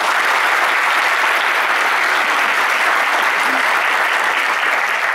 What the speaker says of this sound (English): everybody stand by for applause, and here they go